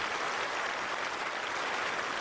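A cricket crowd at a Test match in England applauds a century, a soft, even wash of distant clapping that holds steady throughout.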